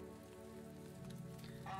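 Rain falls steadily on a path, a soft even patter that runs throughout the clip. A low sustained tonal drone sits underneath, and the rain grows slightly denser toward the end.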